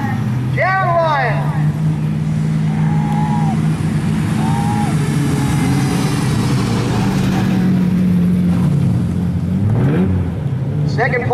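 A production sedan race car roars loudly past the finish at Maryborough Speedway while a public-address announcer talks over it, the engine staying steady and close with crowd noise behind.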